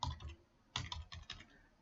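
Short bursts of computer keyboard typing while a file name is entered, quiet clicks in a few quick clusters with pauses between, close up and alone.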